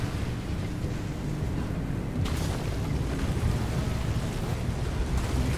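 A thunderstorm in the video game Pacific Drive: a dense, continuous roar of rain and wind with a low rumble, one sharper crack of thunder partway through, and no talking.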